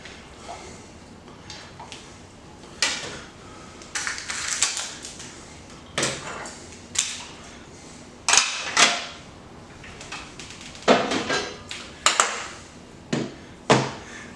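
A utensil scraping browned bits off a pan into a stock pot, a series of sharp scratchy scrapes and clacks in irregular bursts, close and fairly loud, with no talking over them.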